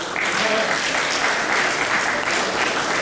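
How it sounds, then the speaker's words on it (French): Loud, full applause from the audience at a long stage hypnosis show, a continuous roar of many hands clapping at an even level for about three seconds. "Vous pouvez l'applaudir pour meubler si vous voulez."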